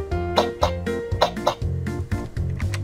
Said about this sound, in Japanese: 心臓の音が鳴ったり咳をしたりするよ